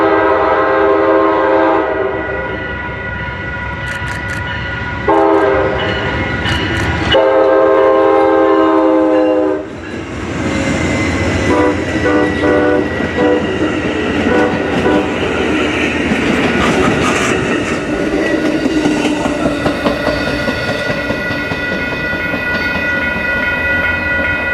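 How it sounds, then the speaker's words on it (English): On Donner Pass, a freight train sounds long, loud horn blasts, then rolls past nearby with a heavy, continuous rumble and clatter of railcars. "We're chasing trains."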